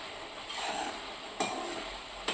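Carrot halwa being stirred in a pan over low-medium gas, with a soft, steady scraping and faint sizzle and a couple of sharper spoon knocks against the pan.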